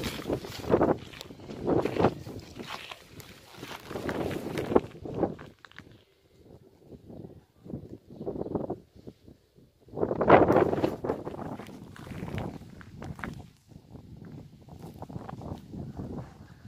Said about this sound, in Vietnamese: Gió muốn bay luôn.